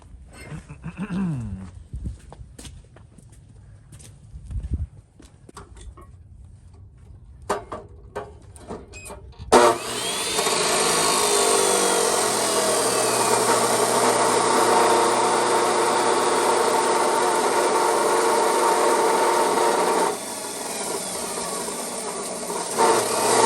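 Metal cutting on a Chevrolet K5 Blazer frame during repair work, beginning with scattered clanks and scrapes, then a loud continuous grinding or cutting whine that holds for about ten seconds before shifting and continuing.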